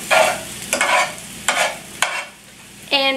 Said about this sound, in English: I'm gonna move them all to one side of the pan.